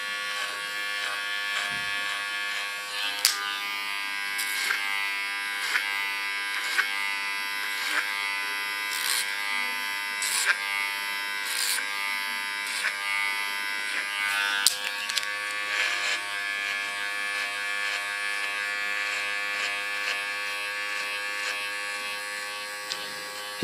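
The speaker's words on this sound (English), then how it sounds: "Using my clipper as a comb," An electric hair clipper runs steadily and close for the whole stretch, buzzing as it cuts short hair during a women's tattoo-style short haircut, with a few sharper ticks and brief pitch shifts as it passes over the head.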